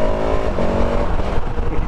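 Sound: KTM 1290 Super Adventure S motorcycle accelerating, quickshifter upshifts

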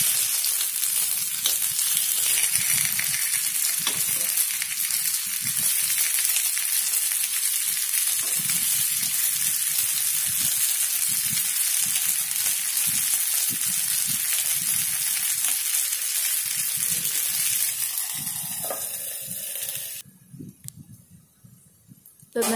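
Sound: sweet corn paniyaram frying in oil

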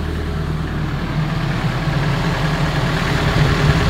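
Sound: hydraulic rig heater running and blowing hot air

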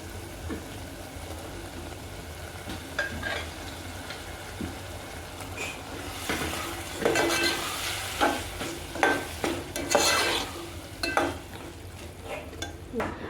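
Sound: stirring boiled mung beans in a pan

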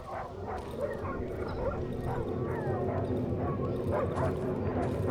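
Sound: dog whimpering somewhere in video game Darkwood

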